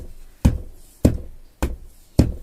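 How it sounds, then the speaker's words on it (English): Four heavy, evenly spaced thuds bang on a door, each a loud single blow with a short pause between, close and alone. "if you hear like a banging on your door"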